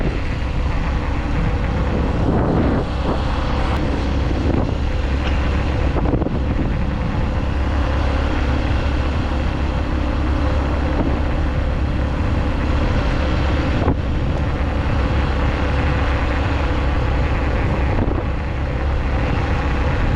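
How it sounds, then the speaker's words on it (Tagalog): Strong wind buffets the microphone steadily with a low, roaring rumble, continuous and loud, beneath a faint tractor engine drone. "Pasensya na ho at medyo mahangin lang."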